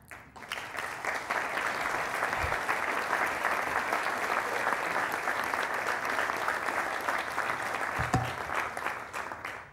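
Sustained audience applause at a Fórum Europa event, a dense, steady clapping from a large crowd lasting throughout without talk over it.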